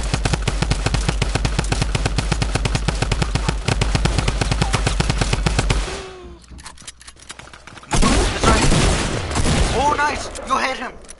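Rapid sustained automatic fire from a drum gun in a video game rattles loudly for several seconds, then stops; after a pause, more bursts and impacts follow while players talk.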